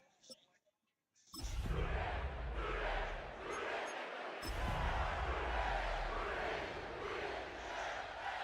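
A sellout crowd at an NFL football game at a Cincinnati stadium roars in a broad, sustained wash of cheering after a near-silent start, briefly dipping then swelling again, with no clear individual voice.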